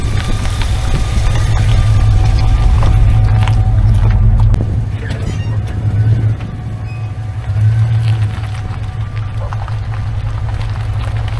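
A 2nd-generation Dodge Ram 1500 pickup with a 5.9L V8 is heard from inside on a test drive, a loud low engine rumble that drops and swells with changing throttle.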